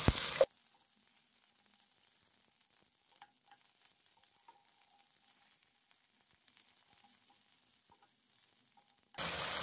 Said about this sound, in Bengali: রসুনগুলো হালকা ফ্রাই হয়ে গেলে দিয়ে দিচ্ছি টুকরো করে কাটা একটি টমেটো। ফ্রাই করে নিচ্ছি।